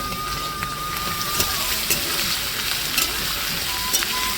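Green beans and carrots fry together in a pan on a village kitchen fire, a soft continuous sizzle with light crackles and occasional scraping stirs, fairly faint and without talk.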